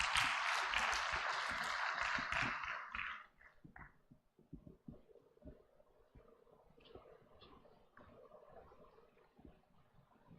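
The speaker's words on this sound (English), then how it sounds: "Big round of applause." A conference audience applauds the CEO's arrival with dense clapping for about three seconds, then it breaks into a few scattered claps, thumps and quiet room noise.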